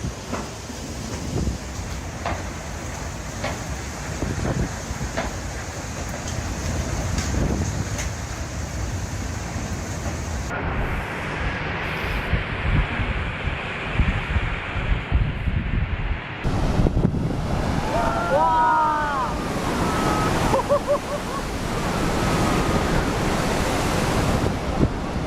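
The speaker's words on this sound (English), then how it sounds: "Here is footage of the Pacific Ocean during a cyclone." Pacific Ocean waves and wind during a cyclone roar continuously, with heavy surf rumble and gusting wind buffeting the microphone, loud and close throughout, shifting in character partway as the scene changes.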